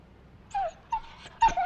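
Small dog whimpering and yipping in a series of three short, high-pitched cries, fairly close and clear against a quiet background.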